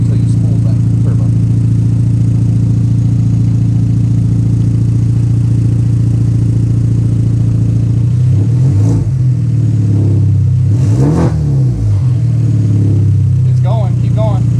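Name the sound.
Hyundai Genesis coupe revving with RFL turbo blow-off valve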